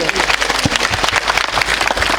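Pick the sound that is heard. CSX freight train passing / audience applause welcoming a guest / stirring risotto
audience applause welcoming a guest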